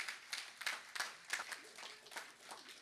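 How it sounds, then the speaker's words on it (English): An audience at a National Health Insurance launch event claps in a fairly sparse, faint round of applause with distinct individual hand claps spaced out over a few seconds. "give the National Health Insurance Scheme a big round of applause"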